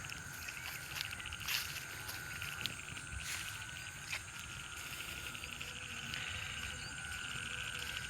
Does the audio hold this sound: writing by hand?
no